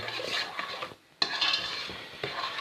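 Spoon stirring a thick honey gingerbread mixture in a pot, a few scraping, clinking strokes with a short pause midway, close and fairly loud, no talk.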